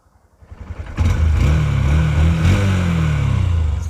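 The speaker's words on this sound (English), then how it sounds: "It's a very smooth sounding engine." A 2021 Honda CB125F air-cooled motorcycle engine sputters with a few quick cranks, then fires up and runs at a steady, throbbing idle, close and loud.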